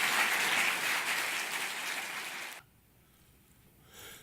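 A congregation at a church gathering applauds with a short, moderately faint burst of clapping that cuts off abruptly, followed by quiet.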